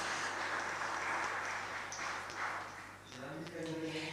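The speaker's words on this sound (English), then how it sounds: "round of applause, please" Crowd applause for a first-prize award at a meeting of young minority-language speakers: a steady wash of clapping that fades, then a voice begins speaking as it dies away.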